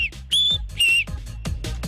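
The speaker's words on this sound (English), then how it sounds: "I have the loudest whistle in the stadium." A hockey fan's loud, shrill whistle in the stands, several sharp high blasts, two of them long and sustained, over thumping crowd and arena noise.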